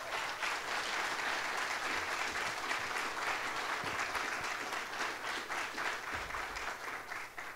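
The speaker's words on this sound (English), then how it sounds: "give her a big round of applause" An audience applauds at a college event honoring a World War II veteran, with dense, sustained clapping that carries on steadily and thins slightly toward the end.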